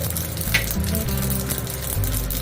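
Mustard seeds and chopped green chili frying in a pan for curd rice, a loud continuous sizzle with light stirring scrapes, no talking.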